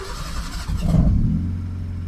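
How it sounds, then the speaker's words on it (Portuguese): A car engine tuned with a Speeduino ECU starts cold, at around 28 to 29 degrees. It cranks and fires into a loud, swelling rev, then settles into a steady, low idle hum close by. "Então vamos agora ligar o carro"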